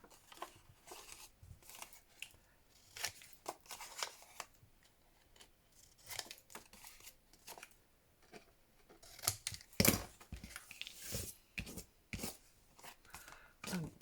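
Scissors snip paper for a junk journal pocket, giving a run of short, crisp cuts and rustles in irregular bursts, close and fairly quiet, with a sharper clatter near the middle.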